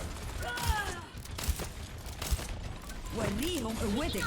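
Gunfire and thuds in the Overwatch video game, with scattered sharp shots and impacts under steady game noise. Faint and mixed with background effects while people talk over it.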